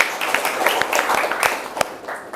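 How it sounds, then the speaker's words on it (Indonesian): A classroom of students claps briefly in appreciation for a classmate, scattered hand claps in a loose burst that stays moderately loud and fairly close throughout. "Coba beri tepuk tangan apresiasi untuk temannya."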